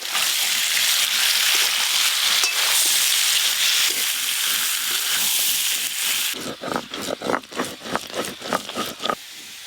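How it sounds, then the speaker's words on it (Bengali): Potato, papaya and spices stir-fried together in hot oil: a steady loud sizzle for several seconds, then a run of sharp, rhythmic spatula scrapes and stirs as the hiss thins out. No talking. "আলু পেঁপে আর সব মশলা একসঙ্গে খুব ভালো করে কষবো।"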